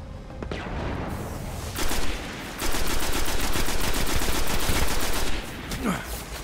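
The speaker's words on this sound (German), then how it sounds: "Ich weiß nicht, warum die so eine Verfolgungsschüsse haben." Rapid automatic gunfire rattles in the video game Destiny, a sustained burst after a brief lull, loud and close, with faint game effects around it.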